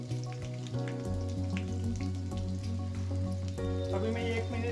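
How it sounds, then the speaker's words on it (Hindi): Steady sizzling of onion and garlic frying in oil with bay leaves, crackling and spitting throughout, with a low hum and some background tones beneath. "अभी मैं 1 मिनट फ्राई करेंगे।"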